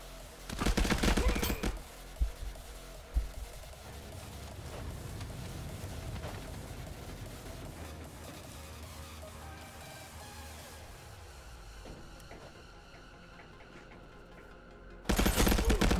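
Sustained bursts of rapid gunfire in the VR shooter game Contractors VR, loud and dense at the start and end, with a steady rumble of shooting and action noise in between.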